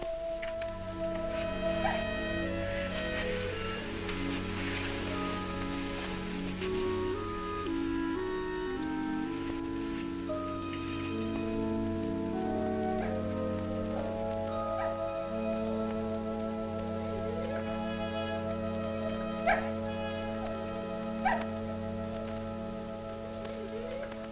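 A dog in a 1946 film scene whimpers and gives small yips over a sustained orchestral score, with the faint high cries scattered through the music and no bark clearly standing out.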